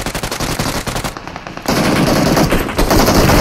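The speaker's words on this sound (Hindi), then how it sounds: "क्या गोलियां चल रही" Rapid bursts of machine gun fire in a video game, loud and close, a rattling stream of shots followed by a denser sustained volley.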